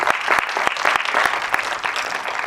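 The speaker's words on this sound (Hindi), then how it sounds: "आप सबके लिए जो यहाँ पर आए उनके लिए जोरदार तालियां होनी चाहिए" An audience at a film screening claps loudly and continuously, a close, dense patter of many hands filling the short span with a few sharper individual claps standing out.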